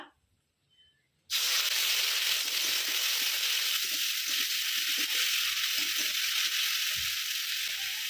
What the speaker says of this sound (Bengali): কড়ায় সাদা তেল দিয়ে দিয়েছি পেঁয়াজ বাটা